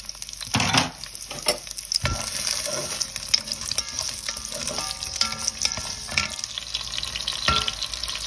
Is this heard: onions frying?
yes